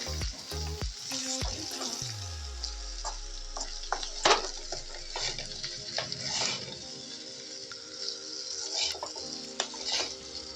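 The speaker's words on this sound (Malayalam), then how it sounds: "നമുക്ക് നന്നായി മിക്സ് ചെയ്യാം." Poha is mixed in a pan at home, with close utensil scrapes and clinks against the metal and soft stirring rustles, plus brief knocks and a low hum in the background, with no talking.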